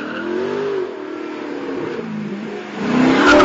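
An Alfa Romeo 8C rear-wheel-drive sports car driving along a road, its engine a loud, steady, close drone that shifts pitch gently and swells near the end.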